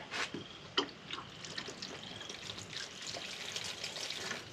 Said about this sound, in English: Let me put some water in there.